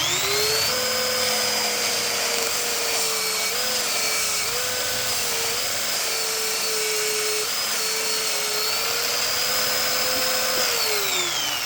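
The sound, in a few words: bench sander sanding red oak revolver grip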